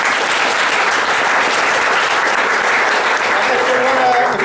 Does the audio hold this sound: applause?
yes